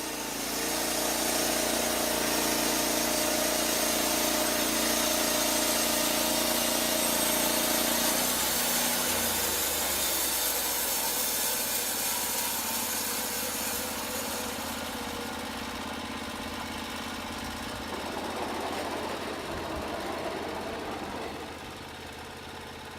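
Engine of a LumberPro portable sawmill cutting wood, a loud, steady mechanical drone with high-pitched blade noise that drops in pitch and softens partway through as the cut changes.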